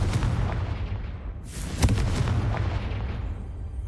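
Confringo fire spell cast in a Harry Potter video game, heard as a heavy blast rumble with a sharp crack in the middle and a rushing whoosh, dense and loud throughout with no voices.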